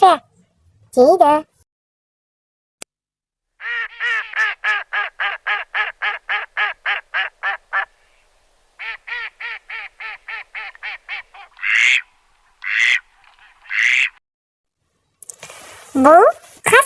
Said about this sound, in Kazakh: Бұл үйрек, үйрек